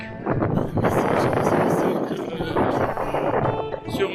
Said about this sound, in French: donc un peu de vent